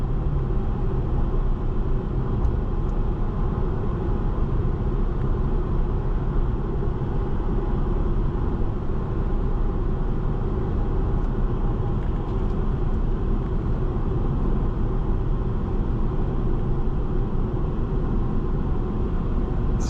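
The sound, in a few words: 2017 Mercedes-Benz C 300 4MATIC driving, engine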